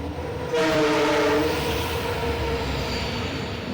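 A Mumbai slow local train at Chhatrapati Shivaji Maharaj Terminus sounds a short horn, then rumbles on with a steady clattering drone. It is close and fairly loud, with no talking.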